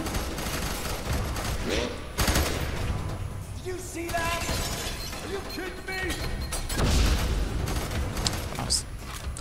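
Gunfire in the shooter game F.E.A.R. 3, a chaotic exchange of shots with sharp cracks and impacts scattered throughout, mixed with shouted voices and combat noise.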